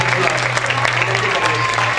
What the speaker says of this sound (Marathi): मी सर्व मान्यवरांना आणि उपस्थितांना परत एकदा जोरदार टाळ्या वाजवायची विनंती करतो